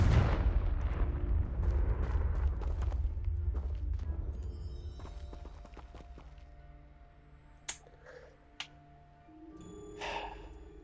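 Confringo fire spell blast in Hogwarts Legacy, a loud rumbling explosion that bursts at the start and slowly dies away, followed by scattered faint clicks and effects.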